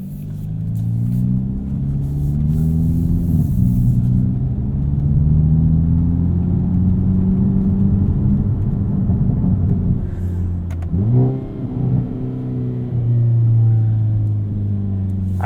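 A 2022 Hyundai Elantra N's four-cylinder engine with wet-clutch DCT drones steadily under load from inside the car, rising in pitch, then dipping briefly at a quick shift before pulling on again.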